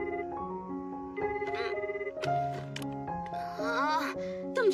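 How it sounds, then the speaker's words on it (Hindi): Telephone ringing in an anime scene, a repeating electronic ring tone layered over background music and tonal effects, moderately loud and steady throughout. "तुम जल्दी फोन क्यों नहीं उठाते फुशिगुरो?"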